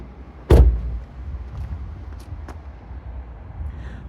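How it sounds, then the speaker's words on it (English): The bonnet of an Audi S5 Sportback 3.0 TFSI quattro is released, giving one loud close thunk followed by a few faint clicks and rattles as it settles in quiet surroundings. "Pop bonnet."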